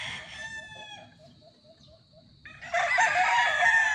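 A Boston Millionaire gamefowl rooster from LDT lines crows at close range in a long, drawn-out call, followed by a louder burst of another crow or clucking.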